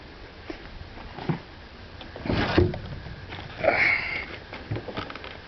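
A Taipan Mutant .25 standard air rifle fires in a quiet setting, giving a soft, muffled puff of air with a second faint puff a moment later, both low in level and with no voices.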